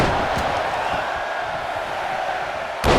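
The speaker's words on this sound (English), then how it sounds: "Listen to this crowd." Crowd noise from the WWE 2K23 Royal Rumble video game, a dense, steady roar of arena spectators cheering throughout, loud and continuous with a sharp burst near the end.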